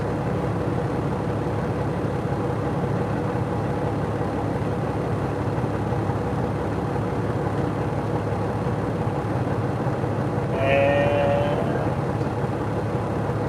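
Traffic crawling through a border crossing on a highway: a steady, even drone of idling and slowly moving engines fills the scene, with a short faint whine-like tone near the end.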